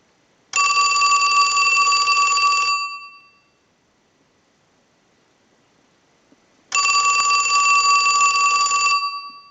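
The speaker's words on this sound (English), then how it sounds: "we can go ahead and use our analyzer and send a ring cycle like you were getting a call" An AT&T 2554 telephone rings from an analyzer ring cycle: two loud, close bell rings of about two seconds each with a long silent gap between them.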